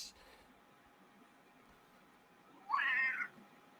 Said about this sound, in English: someone shoo that cat away